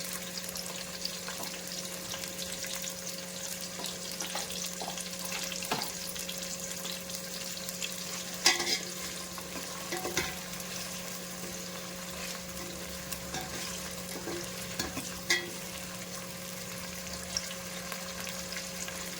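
Green peas frying and being stirred in a hot pan while cooking masala rice, a steady soft sizzle with occasional scraping stir clicks, close and alone without talk.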